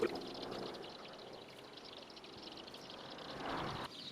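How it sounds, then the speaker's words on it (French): Water poured from a watering can over freshly sown pea seeds in a spring vegetable garden, a steady soft splashing and trickling close by, with faint birdsong in the background. "Et on arrose."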